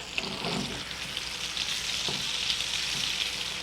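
Two chicken cutlets fry steadily in a pan, a continuous bright sizzle with a few soft pops and faint shifting crackles, no voices.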